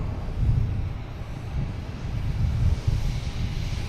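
A JetBlue Airbus A321 from Nassau flies over Boston Logan by the harbor, giving a low, continuous rumbling roar with gentle swells, moderately loud and without voices.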